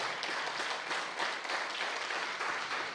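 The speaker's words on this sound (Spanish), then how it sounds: "Vamos a darle un fuerte aplauso al Señor y a su palabra." Church congregation applauding during a sermon, faint and somewhat distant, a dense even patter of clapping that holds steady for a few seconds.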